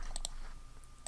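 A few quick computer mouse clicks while creating new folders in Windows Explorer, sharp, close and faint, with a pair of clicks near the start and another near the end over quiet room tone.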